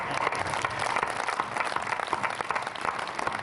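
Audience at an all-India Hindi poetry gathering (kavi sammelan) in Mehar, Madhya Pradesh, claps steadily after a recital, a dense, even wash of many hands from start to finish with no voices on top.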